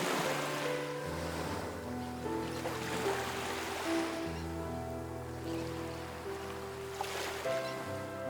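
Pacific Ocean surf along the Bahia de Banderas coast at Puerto Vallarta, Mexico, a steady rushing wash of waves heard beneath a sustained musical backing.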